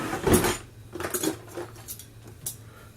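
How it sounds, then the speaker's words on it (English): A tablespoon is picked up from a pile of metal cutlery in a kitchen, making a few close, bright clinks and rattles: one louder jangle, then lighter taps. "I'm also going to grab a tablespoon"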